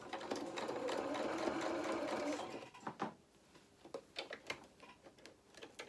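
Domestic sewing machine stitching around a fabric hedgehog doll head, a steady continuous whirr for about two and a half seconds, then stopping into scattered faint ticks and fabric handling.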